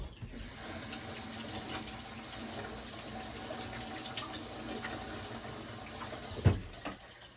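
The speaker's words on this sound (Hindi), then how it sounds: "मैं इसको ऐसे ही धोना है और ऐसे ही काट लेना।" Cucumber washed under a running kitchen tap, giving a continuous close hiss of flowing water with small splashes and a brief clunk near the end, and no talk.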